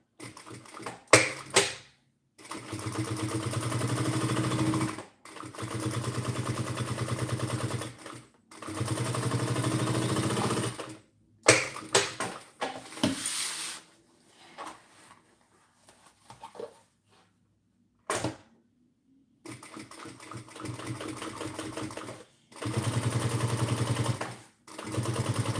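Sewing machine stitching a messenger bag, running in repeated bursts of rapid mechanical chatter separated by short pauses, close and loud.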